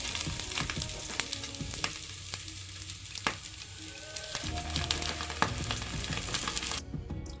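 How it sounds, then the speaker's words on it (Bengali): Raw spices fry in a pan on a gas stove for an egg tikka masala, a close, continuous sizzle with scattered crackles and occasional stirring clinks. "কাঁচা মশলাগুলো কিন্তু ভালো করে ভাজা হয়ে গেছে"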